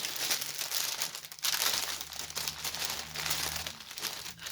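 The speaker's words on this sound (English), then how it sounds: "Sorry for the crinkling." Plastic packaging from a cross-stitch craft haul crinkles up close and fairly quietly, in continuous rustling bursts with brief pauses.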